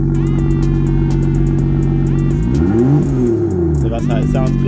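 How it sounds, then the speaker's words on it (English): A BMW M2 engine revved with the exhaust valve closed: a steady rumbling idle rises into a single swelling rev and falls back, loud and close, with a voice talking briefly over it. "Give me a rev, please."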